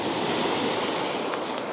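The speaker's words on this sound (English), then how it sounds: "Ah, I got the ocean." Ocean waves wash against a rocky Alaska shoreline in a steady, close wash of surf with light wind, and no voices are heard.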